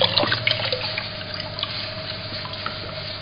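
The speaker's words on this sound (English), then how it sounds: "go and empty the bucket" A bucket of hot water from a copper reflux condenser's cooling setup being tipped out, a steady pouring splash that starts strongest and eases off over a few seconds, close and alone.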